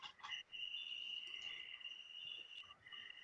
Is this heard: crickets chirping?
yes